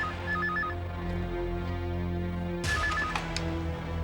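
A telephone rings indoors in a household drama, its warbling electronic trill sounding twice, once at the start and again after a short pause, over a low steady hum with no talking.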